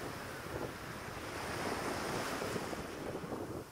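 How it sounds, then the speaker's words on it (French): Continuous rushing ocean waves and wind noise on the coast of Mauke, Cook Islands, steady and fairly loud, with no voices. "Simplement le son des vagues et du vent uniquement."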